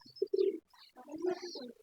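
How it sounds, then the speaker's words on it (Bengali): A young pigeon gives a few soft cooing calls close by, short throaty notes separated by brief pauses, fairly quiet with no talking. "এটা কিন্তু কবুতর বাচ্চা"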